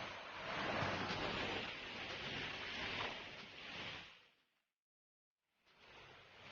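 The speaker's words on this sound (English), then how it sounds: "I was getting the sound of the waterfall, but it was actually coming from here." Small waterfall splashing inside a cave, a broad steady rushing wash of water that cuts out abruptly into silence, then resumes more faintly, with no voices.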